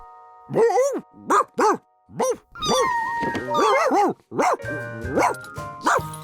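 A cartoon dog barks and whimpers in a children's animated story, giving a run of short, loud yips and whines with brief pauses between them, set over light background music.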